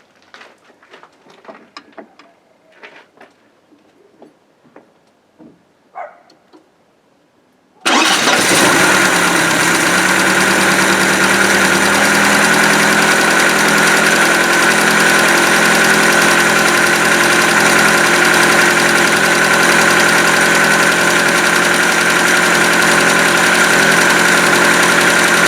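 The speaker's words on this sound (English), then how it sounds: "she's starting up and idling pretty nicely now" Mk3 Cortina car engine cranks and catches, then settles into a steady, loud idle that runs on alone after a few quiet handling sounds.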